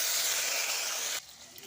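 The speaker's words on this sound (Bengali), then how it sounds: "ওই তেলে গোটা শুকনো লঙ্কা আর তেজপাতা ফোড়ন দিয়ে দিলাম" Whole dried red chillies and bay leaves hit hot oil in which potatoes were just fried, giving a loud, steady broadband sizzle that cuts off abruptly to a quieter hiss.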